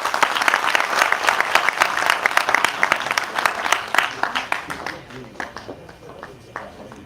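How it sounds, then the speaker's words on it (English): An audience gives a warm round of applause for a chief guest at an emerging technologies session in Greater Noida, full and dense at first, then thinning into scattered individual claps toward the end. "A huge round of applause for our chief guest."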